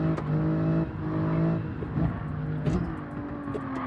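Race car engine in Gran Turismo 7 at Mount Panorama, a steady droning motor tone that rises and shifts pitch as it revs through gears, fairly close and alone with no talking.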